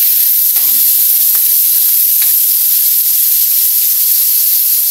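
Pork browning in a pan just used for frying fish, giving a steady loud sizzle and hiss with faint clinks and stirring, no talking.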